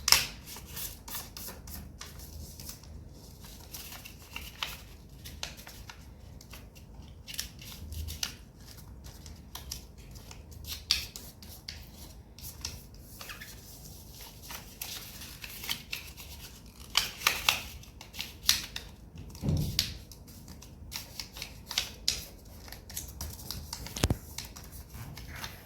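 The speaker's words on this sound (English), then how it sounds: "fold it till this point over here. Make a nice crease and do the same to all four corners." Paper folded and creased by hand for an origami box, heard as faint, close crinkles, rubs and sharp scrapes scattered irregularly across a quiet background.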